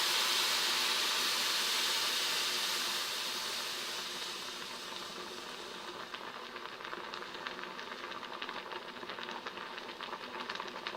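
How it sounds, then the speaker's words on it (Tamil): Water with flour in a pot on the stove starts to boil, a steady close hiss and bubbling that softens after a few seconds into a fainter crackling simmer, with no talking. "இப்போ பாருங்கள், நல்லா கொதி வர ஆரம்பிச்சிச்சு."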